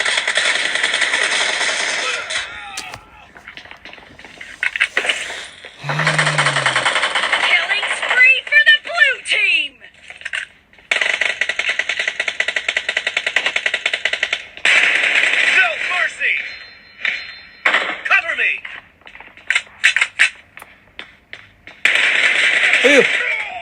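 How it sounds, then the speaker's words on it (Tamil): Sniper rifle shots in a mobile shooting game, sharp bursts of electronic gunfire and clicks in irregular clusters amid game effects, with talk over it. "ஒருத்தன் ஸ்னைப்பர் வச்சு சுடுறான்."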